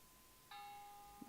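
A single church bell strike from a sound recording, a faint, clear ringing tone that starts suddenly and sustains quietly, followed by a small soft knock.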